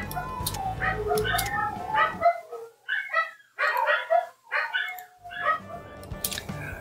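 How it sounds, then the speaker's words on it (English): Dogs bark and yelp in uneven bursts with short pauses between, close and lively, some whimpering yips mixed in, a low hum dropping out midway. "the dogs are going crazy."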